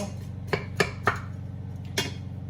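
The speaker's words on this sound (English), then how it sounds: "we're going to get a wood spoon. So give this a quick stir like so" A wooden spoon stirs roasted red pepper soup in a pot over high heat, with four distinct knocks against the pot's side above a steady low hum.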